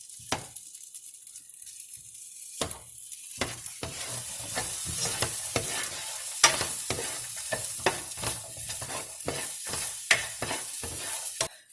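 Vegetarian chorizo sizzles steadily in grapeseed oil while a spoon scrapes and chops through it, sharp clinks and stirring scrapes recurring every half second or so over the continuous close frying hiss; no one speaks.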